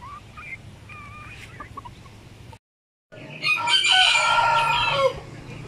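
A pure Shamo rooster on a chicken farm crows loudly and close by, a long drawn-out call after a brief gap, with quieter bird calls and farm background before it.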